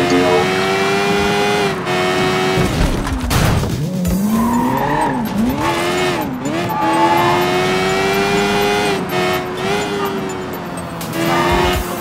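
The 1100 NAR Superbike's engine revs and wails in a Sleeping Dogs radio ad, its loud, steady roar rising and falling in pitch, with screeching, skidding tire sweeps breaking in along the way.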